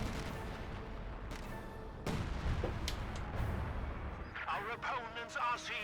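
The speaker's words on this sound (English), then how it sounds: "I guess that was 25-pounder base barrage." In Company of Heroes 2, a 25-pounder base artillery barrage lands as several heavy booming impacts at mid distance, spaced apart among battle noise, with game voice lines coming in near the end.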